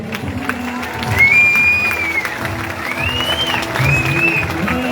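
Audience applause at a Mother's Day concert in Bünyan, a moderate continuous patter of clapping and crowd murmur with whistles rising above it.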